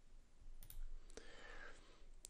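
A few sharp, isolated mouse clicks sound faintly against a quiet room hiss, spaced irregularly.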